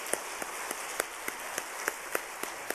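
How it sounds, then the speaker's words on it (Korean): Church congregation applauding during a Wednesday worship service, a quick run of sharp, evenly spaced claps that sound close and moderately loud with a steady rhythm. "우리 박수로 한번 격려하겠습니다."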